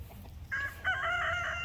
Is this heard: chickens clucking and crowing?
yes